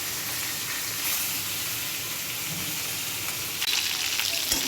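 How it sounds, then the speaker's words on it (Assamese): Fish pieces marinated with salt and turmeric frying in a pan, giving a continuous close sizzle with light stirring and a brief clink near the end. "আৰু 2-3 মিনিটমান এনেকৈ ভাজিব লাগিব।"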